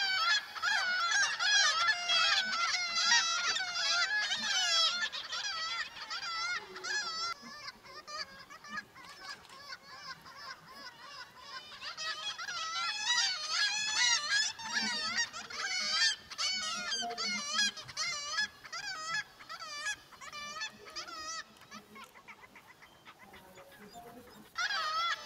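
Seabirds on a cliff at Cap Fréhel, likely gulls, call over and over in a dense, loud chorus of honking, wailing cries that overlap throughout, with faint low background sound beneath.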